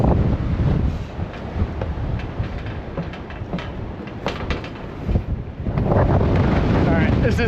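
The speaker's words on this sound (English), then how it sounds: "It is brutally windy up here." Strong wind batters the microphone at a mountain summit, loud and gusty with rumbling buffets that rise and fall, swelling again near the end.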